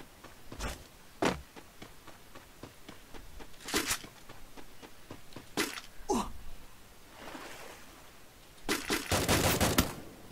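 Rapid bursts of gunfire from the video game Free Fire during a tournament match, several short sharp volleys spread across the clip with a longer sustained burst near the end, heard alone without talk.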